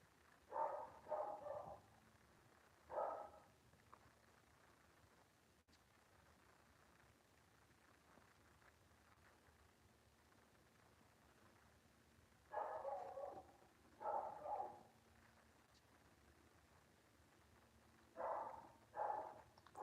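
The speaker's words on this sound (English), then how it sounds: "he barks a lot sometimes, and this just happens to be one of the times he's barking so much" A house dog barks repeatedly during a family game night, short clusters of two or three barks separated by long pauses, faint and somewhat distant indoors.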